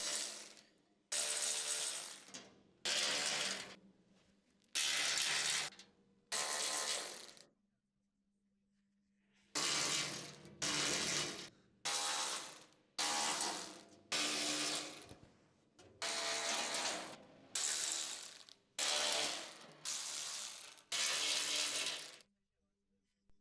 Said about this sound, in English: Use the medium H4 socket with the electric impact wrench to remove all the panel's mounting bolts.